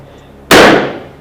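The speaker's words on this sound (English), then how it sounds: "Pop the balloon." A balloon pops once during a number-guessing game show, a single sharp loud burst that decays quickly into quiet, close to the listener.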